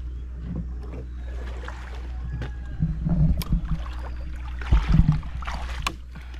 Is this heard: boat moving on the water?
yes